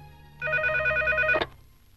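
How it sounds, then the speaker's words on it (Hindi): A single electronic telephone ring trills for about a second, clear and close, then cuts off abruptly. "रिंग हो रही है।"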